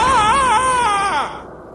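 A long, loud, wavering scream of pain in a Romanian-dubbed animated horror episode, a single sustained cry that trembles in pitch for over a second before cutting off abruptly.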